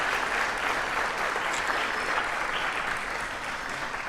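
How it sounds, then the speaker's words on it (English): An awards-ceremony audience gives the event sponsors a sustained round of applause, a dense, even wash of many hands clapping at a steady, fairly loud level from start to finish. "So let's give them all a round of applause,"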